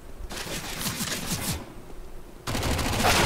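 Rapid bursts of automatic gunfire in a shooter video game, two loud clattering volleys separated by a short lull, with no talking.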